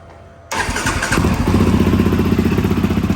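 A Yamaha Raptor 700R ATV with an exhaust baffle fitted starts up and settles into a loud, close, steady thumping idle, with no voices.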